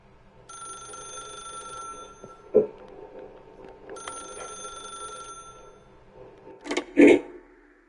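An old-style telephone bell rings in two long bursts in The Stanley Parable: Ultra Deluxe on PS5, followed by a few handling clunks and thuds.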